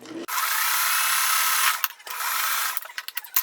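A sewing machine top stitches a fabric crumb quilt block, its motor running in a loud, steady whir for nearly two seconds, then stopping briefly before resuming and breaking into short stuttering bursts.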